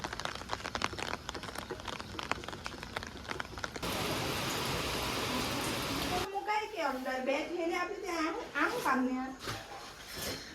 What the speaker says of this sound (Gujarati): વરસાદ ફૂલમ ફૂલ પડે જો